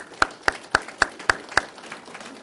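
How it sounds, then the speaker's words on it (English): Six evenly spaced claps at a school hall of fame induction ceremony, crisp and fairly close with brief pauses between them, sounding like a lone clapper rather than a full audience. "give yourselves a round of applause for"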